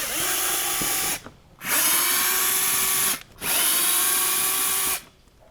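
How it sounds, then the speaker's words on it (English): An electric Phillips screwdriver running in reverse, backing screws out during an engine oil cooler kit installation, whines loudly in three sustained bursts, with short pauses between them. "I just have a Phillips. You can use a hand one. I'm using an electric."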